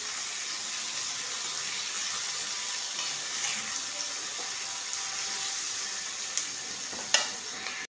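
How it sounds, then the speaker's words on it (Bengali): Red and yellow bell peppers, tomato, green chili and onion stir-fried together in a pan for a Chinese-style fish dish, a steady close sizzle with faint stirring scrapes and a sharp clink near the end. "এইবার বেল পেপার, লাল, হলদে, টমেটো একটা, কাঁচা লঙ্কা আর বড় পেঁয়াজ একটা, সব একসাথে দিয়ে দিলাম। এবার এটাকে আমি খুব ভালোভাবে নেড়ে নেব।"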